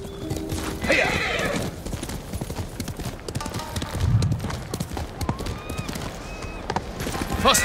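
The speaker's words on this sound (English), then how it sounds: "Good horse, Noble." A horse gallops with rapid rhythmic clip-clop hoofbeats and lets out several loud neighs and whinnies, close and clear over faint background ambience.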